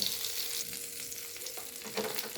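Tortang talong, an eggplant omelette, fries in a pan with a steady, close hiss of oil, occasionally louder as it is moved, over a couple of seconds and with no talking.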